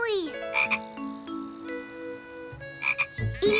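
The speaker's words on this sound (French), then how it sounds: "Un bébé grenouille." A baby frog in a cartoon croaks several times, loud and close, with short bursts and pauses in between over soft background music.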